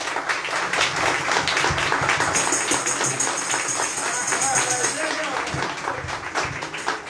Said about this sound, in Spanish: nosotros la recibimos con un fuerte aplauso